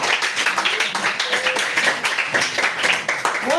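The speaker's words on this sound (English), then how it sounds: "A round of applause for Mr. Ayo" Lively clapping from an audience at an entrepreneurship and mentorship academy session for a speaker, continuous and close, with some chatter mixed in.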